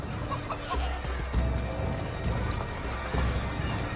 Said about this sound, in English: Chickens, animals as part of the crowd in the city is also a new feature.